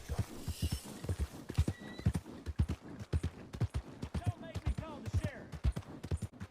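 Horse hooves clip-clop in a steady, close rhythm in a video game, with occasional whinnies and speech from a player in the background.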